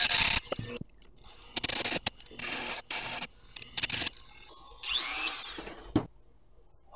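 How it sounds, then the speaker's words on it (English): A small rotary tool's sanding bit grinds the top of a tiny LED, heard as a series of close, intermittent buzzing scrapes in short bursts with a longer whirring pass near the end. "So I'm using the sanding end."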